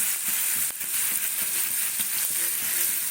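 Thinly sliced potatoes sizzle and crackle steadily in hot oil in a pan, a close, continuous frying hiss with occasional stirring clatter and no talking.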